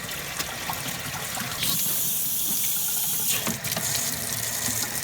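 Sink tap water rinsing out the inside of an aquarium canister filter, a steady splashing gush that grows brighter and harsher partway through as the stream strikes the plastic housing, then stays continuous.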